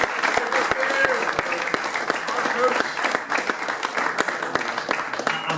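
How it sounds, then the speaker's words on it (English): An audience at an end-of-season football club awards night claps steadily and fairly loudly for several seconds in an indoor hall, a continuous patter of many hands. "So a big round of applause for them taking it."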